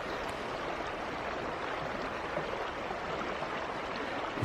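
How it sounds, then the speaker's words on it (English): Water flowing in a shallow stream beneath an abandoned bridge in the woods makes a steady, even rush that continues unbroken, with no other sounds over it. "You see the flowing water right through."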